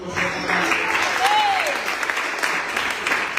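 Applause for elders over 60 at a gathering, a dense wash of clapping from a crowd that holds steady for over three seconds, with a voice briefly audible at the start.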